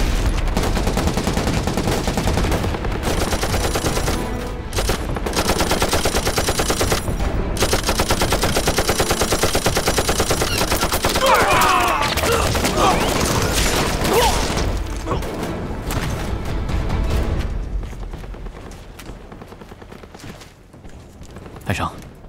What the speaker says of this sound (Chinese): 机枪连，别散着打，集中火力，形成火力网。